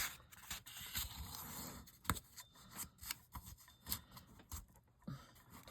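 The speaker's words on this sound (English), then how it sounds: "Fold the opposite diagonal." Paper is creased and folded for a flower journal, giving soft, close scraping and rustling strokes with a few sharper crisp snaps, faint and alone.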